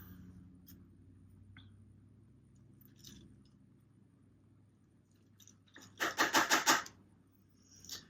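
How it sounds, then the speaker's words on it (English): A swim jig skirt being trimmed, with a quick run of four or five crisp, close snips near the end following quiet handling. "So trim the skirt."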